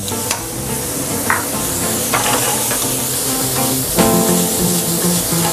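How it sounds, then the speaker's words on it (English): Chopped ham fries in a pan with a loud, close, continuous sizzle and hiss, broken by a few sharp scraping stirs, no one talking. "We put in the chopped ham."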